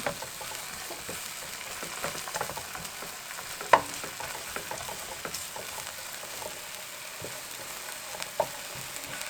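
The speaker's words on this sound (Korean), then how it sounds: "이때 대파를 넣고 대파 향이 올라오면 햄을 넣고 볶아 볼게요" Ham and green onion stir-fried in oil in a frying pan, a low steady sizzle broken by occasional scrapes and clinks of a utensil against the pan.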